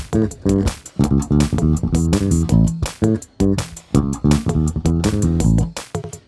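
Electric guitar strumming a run of chords including a major 7, with no capacitor on the pickup, bright and full, with steady rhythmic strikes and no voices.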